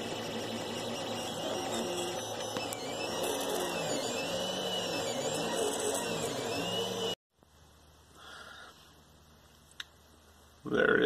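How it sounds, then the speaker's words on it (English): A 3D printer near the end of an 11-hour overnight job, printing a PLA plumbing trap, whirs and hums steadily with rhythmic motor sweeps. The sound stops abruptly, leaving faint room noise, and a louder noise rises at the end. "This has been printing overnight for about 11 hours."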